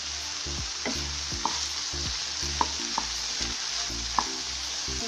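Capsicum stirring and frying in a pan of banana stem curry, a steady sizzle under repeated scraping strokes of a spoon at an irregular rhythm, close and alone with no talk.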